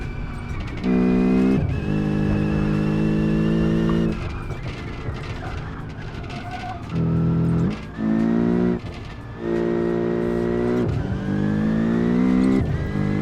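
A car in BeamNG.drive powers up a hill on a Nurburgring mod track. The loud engine revs climb in repeated surges, broken by gear changes and a brief tyre squeal, with no talking.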